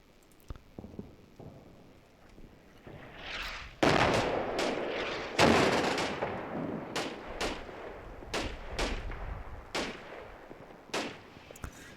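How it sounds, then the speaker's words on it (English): Artillery shells landing in the Combat Mission: Final Blitzkrieg war game, two heavy booming impacts with long rumbling tails amid scattered sharp crackling gunfire-like reports over about twelve seconds, loud and fairly close, no talk. "looks like this is where our artillery starts to fall"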